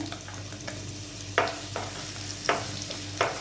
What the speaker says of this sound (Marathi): तेलामध्ये कढीपत्त्याची पानं आणि हा बारीक चिरलेला कांदा घालून घेते.